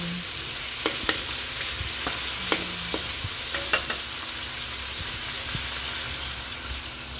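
Creamy chicken simmers in a covered pan, giving a steady soft sizzling bubble with a few faint clicks and pops, close and fairly quiet, with no talk.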